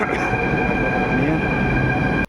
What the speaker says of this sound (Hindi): लिफ्ट से निकलते ही मेट्रो आ गई है